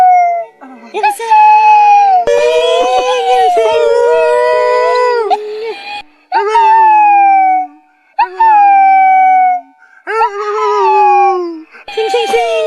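A rescue dog howls in long, wavering, song-like phrases, close and loud, in several bursts separated by short pauses, with a siren-like rising and falling pitch.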